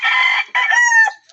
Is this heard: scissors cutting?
no